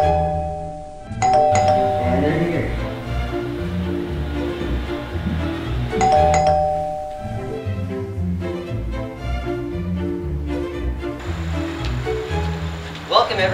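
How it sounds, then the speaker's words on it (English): A doorbell chimes its ding-dong tones three times at spaced intervals, clear and nearby, over a steady background of voices and other indoor noise. "Can we see the doorbell?"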